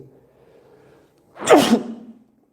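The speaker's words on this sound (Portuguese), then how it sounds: "a cada 3 horas um espirro" A single sharp sneeze bursts out close by after a moment of near silence, then trails off quickly.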